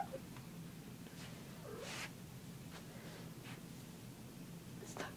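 A pet cat gives a faint, brief meow amid low indoor hiss and light rustling, with a few soft scattered noises around it.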